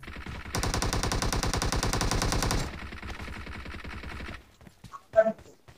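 Rapid automatic gunfire in the mobile battle royale game BGMI (PUBG Mobile), a loud sustained burst of shots for about two seconds, then quieter continued firing, ending with a couple of sharp isolated sounds.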